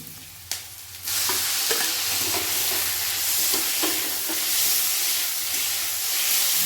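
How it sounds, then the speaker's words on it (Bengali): Tomatoes and coriander frying in a pan and being stirred, a steady loud sizzle and hiss with small scraping clicks from the stirring, heard close up after a brief sharp knock. "এটা একটু ফ্রাই করে নিই, তারপরে আবার মিলিয়ে দেবো আমি।"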